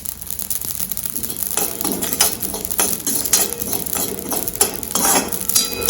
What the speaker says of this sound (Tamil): கசகசா உடனே பொரிஞ்சிடும்